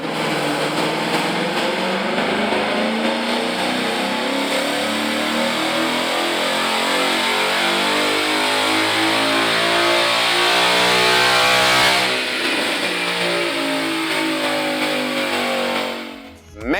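A 2018 Ford Mustang GT with the 5.0L Gen 3 Coyote V8, fitted with a JLT cold air intake and Lund Racing tune, revs hard on a chassis dyno, climbing steadily in a loud continuous sweep before backing off near the end.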